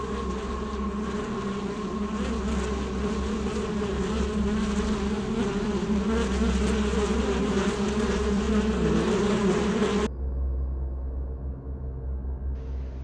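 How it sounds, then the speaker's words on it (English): A swarm of large black flies buzzes around a screened-in porch in winter, making a dense, steady droning hum that carries on throughout without any talking. "large black flies began to swarm their screened-in porch."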